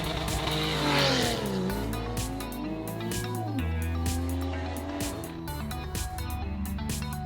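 A 2014 Porsche 911 Targa 4S flat-six revs loudly and close. The engine note rises and falls in sweeping pitch as it is blipped and held, a strong continuous roar throughout.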